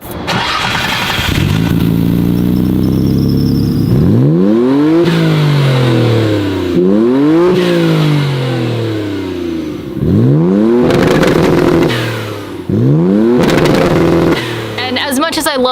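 A Nissan S13 engine cranks and starts, then revs repeatedly in rising and falling sweeps, loud and close, with short pauses between revs.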